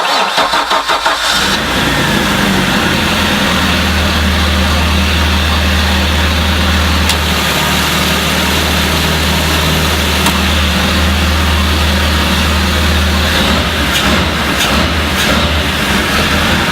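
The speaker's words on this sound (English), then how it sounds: "You can really hear that grunt off it with those Corsa exhausts." A Mariah SX22 boat's engine idles steadily through Corsa exhausts, a deep, loud, continuous rumble that holds close and even after a brief start at the beginning, with no talking.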